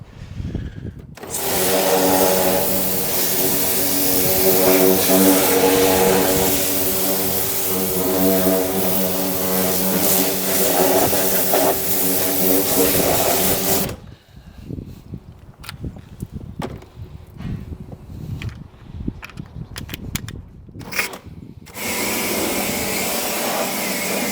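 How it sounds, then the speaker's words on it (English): A pressure washer with a turbo nozzle blasts out the wheel arches of a 2014 MINI One, a loud continuous roaring whine for about thirteen seconds, then broken spraying bursts before a steady blast returns. "I will use my clean and shiny turbo nozzle to blast the arches out quickly."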